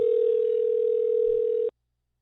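A telephone dial tone hums as a call is being placed: one steady, loud, unbroken tone that holds for under two seconds and then cuts off abruptly into silence.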